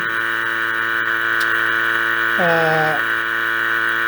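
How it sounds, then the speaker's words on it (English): A vacuum pump pulls down the air-conditioning system on a Factory Five 33 Hot Rod, giving a steady close, loud hum throughout with a brief rising whine near the middle. "I'm pulling a vacuum on the system"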